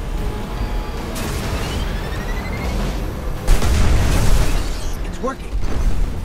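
A Siva tank is destroyed in Destiny: Rise of Iron. A deep, loud explosion erupts partway through and rumbles on over a steady backdrop of combat noise, with a lighter blast heard earlier.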